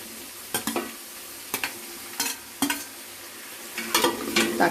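Tomatoes and green chillies frying in a pan for chicken karahi, stirred with a utensil: a steady low sizzle broken by several sharp scraping strokes at irregular intervals, close and clear with no voices.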